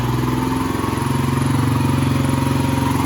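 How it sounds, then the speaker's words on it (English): A Kawasaki KLR 250 motorcycle engine idles steadily while warming up, a loud, close, even mechanical rumble with a constant low throb and no voices. "Alright, so now we got the bike warming up."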